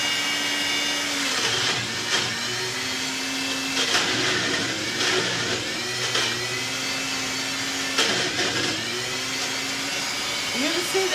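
A kitchen blender or mixer whips avocado chocolate pudding, a loud steady motor whir that rises and dips in pitch as the load changes, running continuously under occasional talk.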